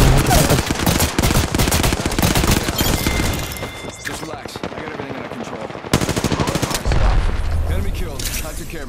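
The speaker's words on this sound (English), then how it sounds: "The enemies are shooting." Gunfire from enemies in the battle royale game Apex Legends, loud rapid automatic bursts almost without pause, with a short lull before the shooting resumes.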